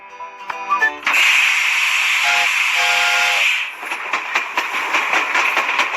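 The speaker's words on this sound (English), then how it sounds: "Let's assemble the train." Cartoon steam train on rails, opening with a loud sustained hissing steam blast and whistle, then settling into a rhythmic chugging clatter of wheels.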